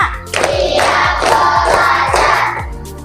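In a lively classroom-style session, a group performs the 'tepuk 5' clapping pattern: a quick, evenly spaced run of crisp claps with voices chanting along underneath.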